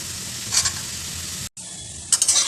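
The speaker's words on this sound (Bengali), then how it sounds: "আমি পেঁয়াজগুলো দিয়ে দেবো।" Onions tossed into potatoes frying in hot oil set off a loud, crackling sizzle with stirring scrapes. The sound cuts out for a split second, then resumes with fresh bursts of spattering.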